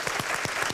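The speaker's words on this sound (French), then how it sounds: "Je vous applaudis." Brief applause from attendees at an annual general meeting of a credit union, a short burst of individual claps heard fairly close in an indoor hall.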